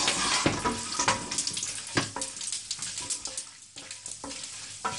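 Cashew nuts sauté in hot melted ghee for bagara rice, a close, busy sizzle with repeated stirring scrapes and knocks of a spoon against the vessel throughout.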